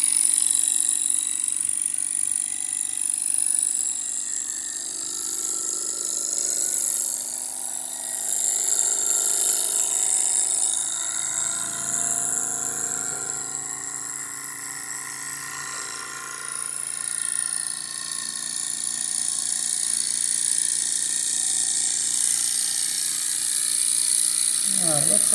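A Jensen 75 live steam engine with faux brass governor balls and roller ball bearings runs at high speed, giving a steady, loud high-pitched whine and whir that holds throughout with slight swells.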